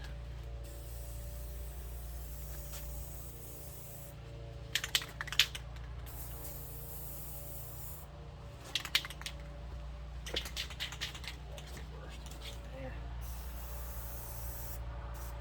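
Short bursts of spray paint laying a satin coat on the quarter glass window trim molding of a 1978 Plymouth Volare, several brief hisses over a low steady hum.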